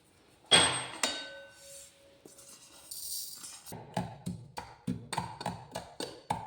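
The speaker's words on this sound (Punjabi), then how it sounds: "ਇਸ ਤਰ੍ਹਾਂ ਨਾਲ ਕੁੱਟ ਲਿਆ ਜਿਹੜੀ ਆਪਣੀ ਕਲੌਂਜੀ ਸੀਗੀ" A pestle pounds nigella seeds (kalonji) in a mortar, producing a steady series of sharp, evenly spaced thuds up close, after an earlier glassy clink and a few scattered knocks.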